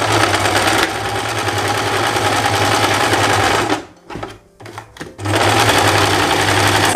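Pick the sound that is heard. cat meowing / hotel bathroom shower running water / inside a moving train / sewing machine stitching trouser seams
sewing machine stitching trouser seams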